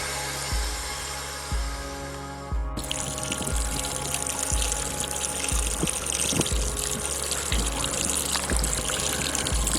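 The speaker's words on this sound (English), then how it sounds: "The water maker discharge pissing over the side." Discharge water from a boat's watermaker pours steadily over the side into the sea at anchor, a continuous splashing gush close by, with a regular low thumping pulse repeating beneath it throughout.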